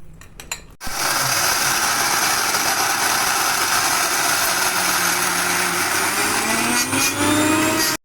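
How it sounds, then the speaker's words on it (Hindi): A mixer grinder grinding walnuts and almonds together runs as one loud, steady whirring roar for about seven seconds after a brief start. It stops abruptly at the end, with no one speaking. "देखिए मैंने अखरोट और बादाम दोनों एक साथ पीस लिए हैं"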